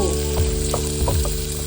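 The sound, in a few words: onions frying in a pressure cooker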